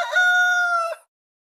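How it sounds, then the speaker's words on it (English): A single cartoon rooster crows once, loud and close, a bright sustained call that cuts off abruptly into silence. "Find the rooster."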